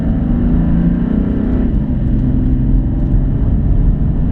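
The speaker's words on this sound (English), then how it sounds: "I'm going to accelerate out to the right hand side" A car pulls hard out of a right-hand line during a public touring lap of the Nürburgring Nordschleife, its engine droning loud and close from inside the cabin with a steady rising pitch and one brief gear-change dip.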